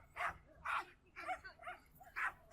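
A stressed dog gives a series of five short, close whimpering barks and yips in an uneven rhythm, with quiet gaps between them.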